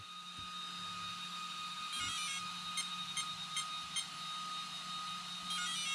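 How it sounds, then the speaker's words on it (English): Four short high electronic beeps from a Tekno MT-410 RC truck's electronics at startup ring out in a quick series over a steady whine and hum of electronics. "You hear the 4 beeps"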